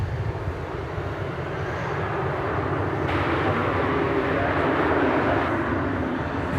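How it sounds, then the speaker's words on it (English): Spirit Airlines Airbus A320 arriving from Phoenix at DFW Airport, a steady, loud broadband jet roar that swells slightly as it approaches and holds steady to the end, with no talk over it. "We've got our first Spirit Airlines appearance of the evening. This one is arriving from Phoenix. It's an Airbus"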